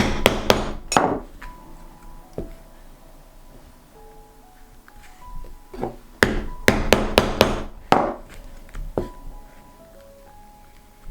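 A No. 5 punch is hammered into leather to make stitching holes, giving sharp, loud, ringing strikes in quick clusters with pauses between them, close up and without any talk.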